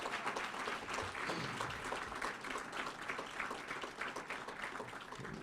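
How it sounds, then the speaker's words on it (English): Banquet crowd at a scholar-athlete awards event gives athletes a sustained round of applause, a dense, even clatter of many hands heard from a moderate distance. "Give them a round of applause."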